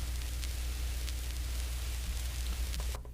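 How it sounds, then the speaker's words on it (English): A vinyl crackle sample from Splice plays back on an MPC Live 2, a quiet, steady hiss with faint scattered pops for about three seconds before cutting off abruptly. "So I have some vinyl crackle,"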